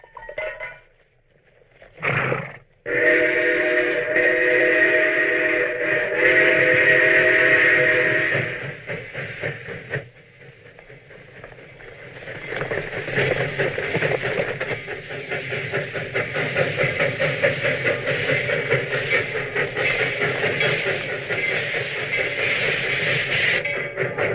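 A train rumbles and clatters along the rails with hissing steam; a sustained whistle blows loudly near the start before the steady running noise continues.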